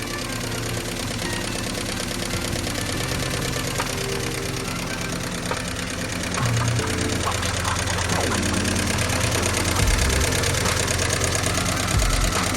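A 1954 Willys engine idles steadily with a light, quick ticking running through its low rumble. The idle grows slightly louder and rougher partway through, close up and with no talking.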